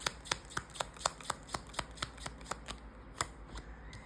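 Tarot cards being shuffled by hand, a regular series of crisp riffling slaps about four per second, close and fairly quiet against a faint background hum.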